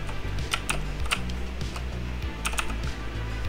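Computer keyboard typing in short clustered bursts of key clicks, close and fairly quiet over a steady low hum, during 3D modeling work on a cyberpunk female character.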